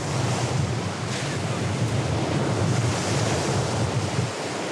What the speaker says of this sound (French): Chaque hiver, le littoral est attaqué de plein fouet par la houle et les vagues.